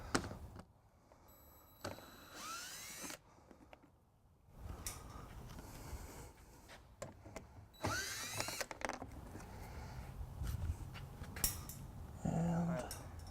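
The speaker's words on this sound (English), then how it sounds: "And we'll just be using the drill." Intermittent bursts of a power drill whirring in short runs as it removes 10mm bolts from a 2015 Mini Cooper Countryman during trailer hitch installation, with clanks and rattling of tools in between, close by and fairly loud.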